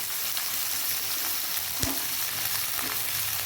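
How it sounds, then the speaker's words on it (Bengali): Spring onion stalks fry in a pan with green chillies and black cumin, giving a steady broadband sizzle throughout, punctuated by a sharp clack of a utensil near the middle and a softer one toward the end. "এবারে পেঁয়াজ কুলিগুলো দিয়ে দেবো"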